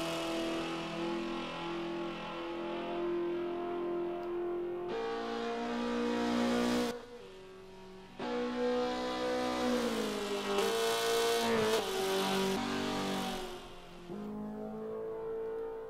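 Mazda car engine in a racing video game on the Maple Valley track, droning and revving through gear changes, with a brief drop in pitch and level partway through before climbing again; no voices present.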